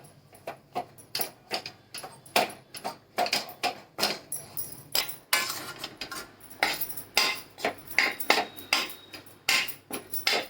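A spoon stirs and breaks up zunka, a gram-flour dish cooked with onion, in a pan, producing a steady series of close metallic taps and scrapes against the pan with no talking.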